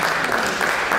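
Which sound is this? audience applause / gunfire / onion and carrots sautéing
audience applause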